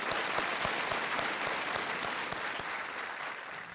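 Studio audience on the KBC quiz show set bursts into steady, dense applause that holds at full strength for the whole stretch, many hands clapping together with no voices over it.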